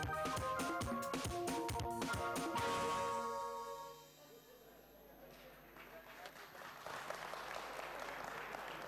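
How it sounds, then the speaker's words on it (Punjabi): Audience applause on a Punjabi guest talk show, dense clapping with music in the first few seconds, then fading to softer scattered clapping under background noise. "ਤਾੜੀਆਂ ਹੋਣੀਆਂ ਚਾਹੀਦੀਆਂ ਨੇ।"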